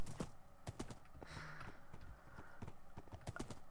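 A horse's hooves clip-clop steadily in the Minecraft video game, a quick, even run of hoof steps that continues throughout at moderate volume.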